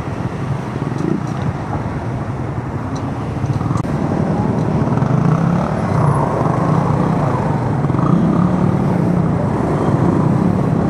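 Dense road traffic on a jammed highway toward Tagaytay near Silang, Cavite, where the road ahead is closed for works: a steady, loud roar of engines and wind rumble runs continuously throughout, with no clear gaps.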